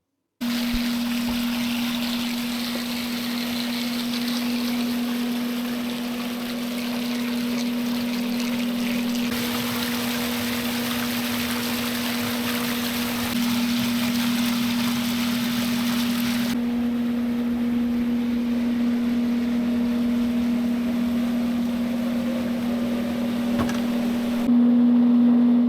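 Water pours steadily into an above ground pool during filling, a continuous rushing flow with a constant low pump hum underneath, unbroken and alone throughout.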